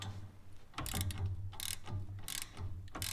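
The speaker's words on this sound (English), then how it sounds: "Tighten that down real good." Bolts being cinched down on a cap plate over a new gasket after an EGR valve delete, giving quick ratcheting clicks in several bursts over a steady low hum, close and moderately loud.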